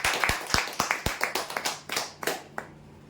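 A small group claps for third-prize winners of a TV-corner prize draw: a run of separate, sharp hand claps, fairly close and uneven in rhythm, thinning out toward the end with no talking.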